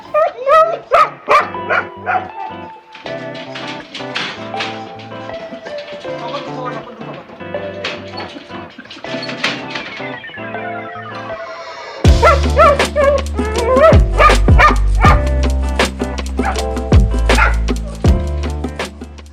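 Sharp, repeated dog barks ring out over loud, busy music, which grows heavier with thumping percussion partway through.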